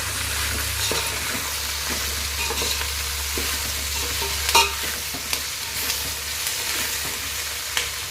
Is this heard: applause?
no